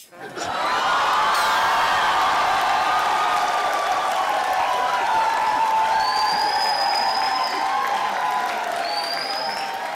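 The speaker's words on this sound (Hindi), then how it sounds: "जोरदार तालियां विराट कोहली के लिए" An audience claps and cheers loudly for Virat Kohli, with a sustained wash of applause and crowd noise holding steady throughout, amid some chatter and laughter.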